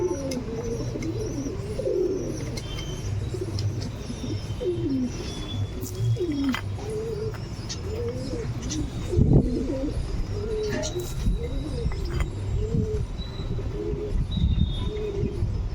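A flock of pigeons being fed grain, cooing in repeated soft, throaty phrases close by over a low outdoor background, with a few thin chirps and occasional faint thumps.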